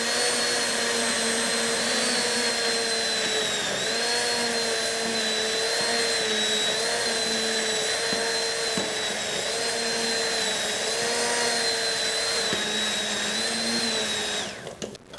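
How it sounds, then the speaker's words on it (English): An immersion blender runs in a cooking pot, pureeing parsnip vichyssoise: a steady, loud motor whine with a faint wavering pitch that holds for about fifteen seconds, then cuts off at the end. "I've got a nice immersion blender that makes it easy so I could work right in the pot that I'm cooking"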